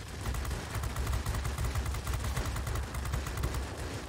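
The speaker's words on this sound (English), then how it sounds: "He's trying to shoot me, even though he has an enemy aircraft on him." Aircraft machine guns rattle in rapid bursts during a World of Warplanes dogfight with IL-series attack planes, loud, dense and continuous over a low engine drone.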